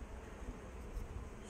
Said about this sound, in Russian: О, говорю, целая липа облипана пчелами.